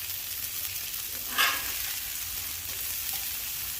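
Cheeseburger patties frying on a flat top griddle at about three-quarter heat, a steady close sizzle with one brief louder crackle burst, alone without talk.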